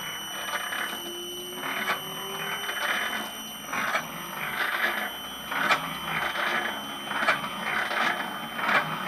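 An Alba 1A metal shaper with a new motor, running in low gear, gives a steady mechanical whir overlaid with a regular, repeating beat of strokes and a faint squeal.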